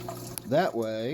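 Water running over rocks in a small waterfall in a red clawed crab tank, a steady close trickle and splash heard briefly alongside a voice.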